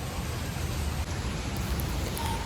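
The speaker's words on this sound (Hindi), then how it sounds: "सामने से बारिश आ रही है" Steady heavy rain pours down outdoors, a continuous dense hiss with no voices, holding at an even level throughout.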